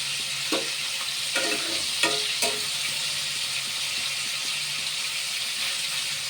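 Fish pieces fry in oil in a pan for a yogurt fish curry, giving an even, close sizzle throughout, with a few light utensil clinks early on.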